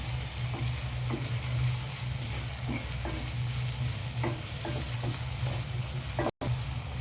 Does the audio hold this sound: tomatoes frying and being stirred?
yes